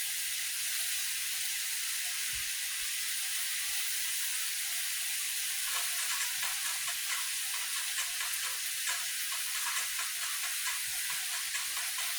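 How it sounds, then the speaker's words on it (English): London broil sizzling in a cast iron skillet, a steady loud frying hiss that holds throughout with small crackles and spits, close up with no talking. "And I'm cooking in a cast iron skillet."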